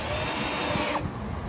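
A power drill whirring into metal on a Peterbilt 389 truck, a short continuous grinding buzz close up that stops just before the end.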